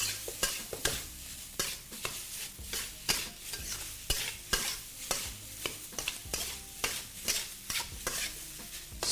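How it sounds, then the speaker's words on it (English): Kimchi fried rice sizzles in a wok while a flat spatula scrapes and tosses it in quick, regular strokes, giving a close, rhythmic clatter over constant frying hiss. "Stir frying requires constant movement."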